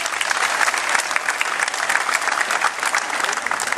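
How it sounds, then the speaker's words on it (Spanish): Steady, dense applause from a crowd honouring the women at a political party gathering in municipal offices in Acapulco. It fills the whole stretch without a break, with no talk over it. "Un fuerte aplauso para todas ustedes."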